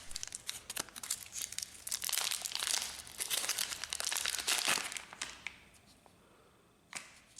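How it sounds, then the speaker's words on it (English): A plastic bag holding Epson ink cartridges is torn open and handled, close crinkling and crackling in dense bursts for about five seconds, then quieter rustles and one last sharp crinkle. "Open the bag of the cartridges."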